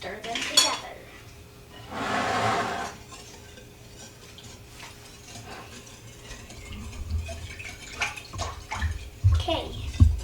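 Ingredients stirred together in a big mixing bowl for braided bread dough, with scraping, clattering bowl contacts and a brief louder burst of mixing noise, close and moderately loud with no talking.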